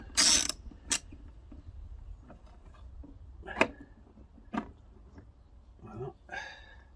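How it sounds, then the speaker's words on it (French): Screws are turned back in by hand, giving scattered mechanical clicks and ratcheting ticks. The sounds are close and fairly quiet, with pauses between them. "quand on les revisse, c'est pas la peine de les visser comme un malade."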